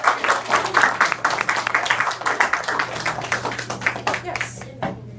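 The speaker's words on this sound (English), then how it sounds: "Can we just clap first?" A small audience claps in a room after a talk by an author, a quick patter of hands that rises at the start and gradually thins out over several seconds, with a voice at the very end.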